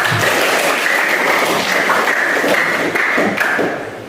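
Students in a school classroom clap together, a loud, steady burst of applause lasting about four seconds before tapering off, with no talking over it.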